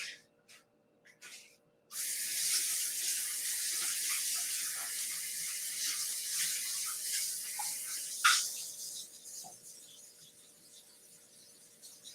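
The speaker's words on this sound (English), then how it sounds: "let me rinse my hands real quick" Hands are rinsed under a running kitchen tap in a home bread-baking setting. A few soft clicks come first, then a steady, close hiss of flowing water with one brief splashy surge near the end.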